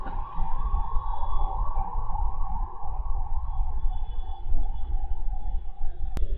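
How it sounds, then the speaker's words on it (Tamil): An ambulance siren sweeps past over steady traffic rumble, its pitch gliding and shifting with the Doppler effect as the vehicle approaches and recedes. "இப்போ அந்த ஆம்புலன்ஸ் போன சத்தம் கிடைச்சில"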